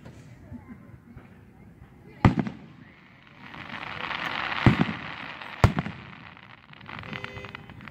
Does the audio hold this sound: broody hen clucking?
no